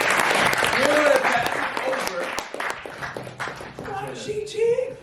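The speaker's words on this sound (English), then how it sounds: "So clap it up for Jesse." An audience at a cast and crew Q&A claps and cheers in a lively burst that tapers off, with voices talking over it as it fades.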